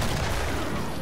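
Gunfire from a 9mm pistol and hand cannons in the video game Killing Floor, a dense continuous burst of loud, overlapping shots filling the whole moment.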